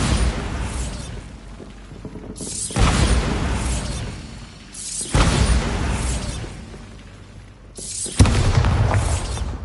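Blasting-spell explosions from a Harry Potter video game, three heavy booming bursts spaced a few seconds apart, each with a loud sudden onset and a rumbling, crackling decay.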